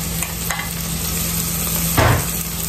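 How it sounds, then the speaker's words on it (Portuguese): Garlic frying in a pan alongside calabresa sausage and bacon, a steady close sizzle with a brief louder burst of hissing and stirring near the end, no voices. "Calabresa frita junto com o bacon."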